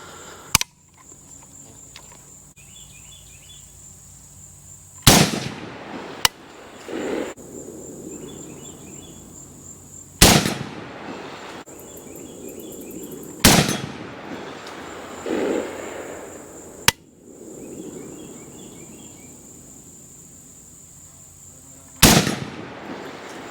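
A Zastava ZPAP85 rifle firing at an 8-inch steel plate outdoors, several loud, sharp gunshots spaced seconds apart, each followed by a faint ring of the struck steel, with insects chirping quietly between shots.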